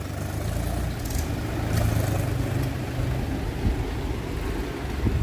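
A Sonalika 265 XP Plus tractor engine runs steadily while driving in third gear low range, a loud continuous low rumble with slight swells, alone and with no talk.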